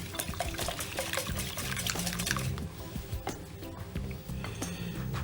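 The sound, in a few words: pouring eggs onto melted chocolate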